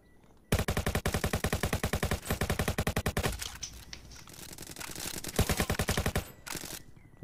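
Rapid automatic gunfire rattles in Roblox Jailbreak as a long, evenly spaced burst, close and loud, followed by a brief pause and then a second shorter burst.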